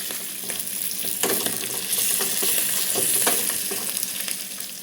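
Curry leaves, asafoetida and cashews fry in a pan for a kodo millet pongal, a steady close sizzle with a few stirring scrapes throughout and no talking.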